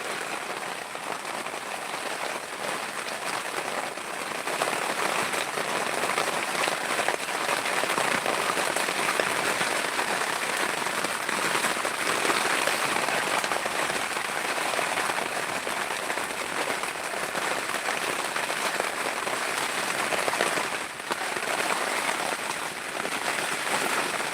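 Heavy rain pours down in a steady, loud hiss of drops striking surfaces, continuous and close for the whole stretch, with no talking.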